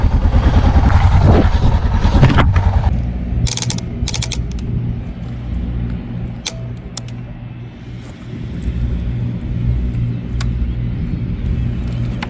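A motorcycle engine, just started after a breakdown on a remote Arctic highway, idles with a steady low rumble close by, following a louder rev at the start and a few sharp mechanical clicks and ticks.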